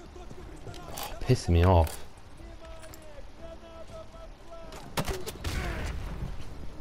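Video game gunfire in a shooter mission, bursts of shots and impacts heard under frustrated talk from a player, with a louder crackling volley near the end.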